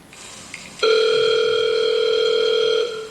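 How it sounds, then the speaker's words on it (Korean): A telephone ringback tone plays as an outgoing call connects, a steady loud electronic tone holding for about two seconds before cutting off, with no talking over it. "한번 통화를 해보도록 하겠습니다"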